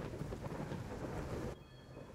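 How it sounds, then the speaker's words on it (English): Heavy rain with thunder falls outside, a soft, steady hiss and low rumble heard faintly at a distance. It drops away sharply after about a second and a half. "there's a loud rain."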